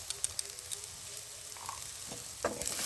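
Ginger, garlic and potato frying in a pan, with a steady crackling sizzle and a few sharper spits and stirring clinks near the end.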